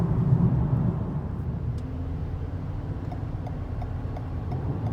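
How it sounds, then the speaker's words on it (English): A 2020 Toyota Corolla LE accelerates onto a highway, heard from the cabin as a steady engine drone mixed with road and wind rumble, with a few faint ticks, fairly quiet and continuous. "Let's see how it is accelerating to get onto a highway."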